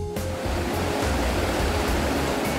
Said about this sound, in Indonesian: Gemercik air dari ratusan sungai mengalir membawa berkah kehidupan